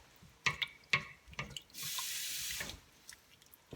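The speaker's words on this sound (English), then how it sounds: "let me just add a little more water to this" A kitchen tap runs in a steady burst for about a second while water is added to a pot of beef stew, after a few clinks and knocks of cooking.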